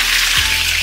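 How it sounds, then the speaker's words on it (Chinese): Pork ribs sizzle as they dry-fry in hot oil in a wok, a close, steady hiss with a brief stir partway through. "然后我们就给它生煸"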